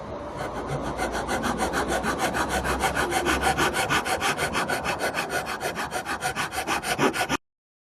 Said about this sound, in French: maintenant nous allons affiner à la lime pour avoir des surfaces bien planes